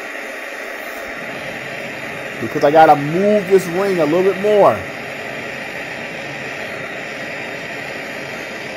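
A torch roars steadily, loud and close, while heating a half dollar coin being made into a ring; someone speaks briefly over the constant hiss partway through.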